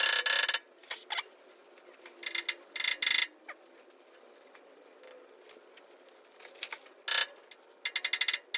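A ratchet clicks in short bursts while bolting in a rear suspension bush on a TVR Tuscan, quick metallic ratcheting spurts separated by quiet pauses, close and moderately loud.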